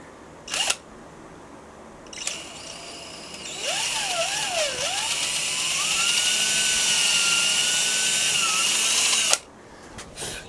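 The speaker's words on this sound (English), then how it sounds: "What I want to do now is drill myself a hole" An electric drill whirs for several seconds, its pitch wavering as the bit bores a hole into a wooden electric guitar body at the fret slot, with brief clicks and knocks before and after.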